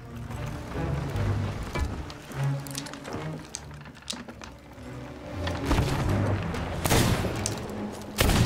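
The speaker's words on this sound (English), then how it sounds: "I've been shooting it this whole time" Gunfire aimed at a megalodon in the Sea of Thieves Hungering Deep event, loud bursts of shots over churning water and booming game noise, with a sharper volley near the end.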